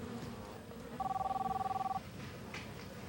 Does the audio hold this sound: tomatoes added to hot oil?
no